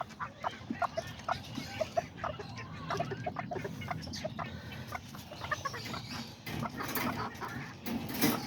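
Several Kikiriki and Azteca chickens cluck repeatedly at close range in a farmyard, with rooster calls and general fowl chatter mixed in over a steady outdoor background.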